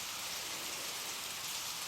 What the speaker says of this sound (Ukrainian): Розпочався дощик, хвала Богу.